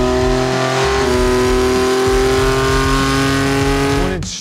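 A 2021-or-later Ford Bronco engine revving through a 304 stainless steel catback and downpipe exhaust, a loud sustained close rev with rising and falling pitch that drops away sharply at the end.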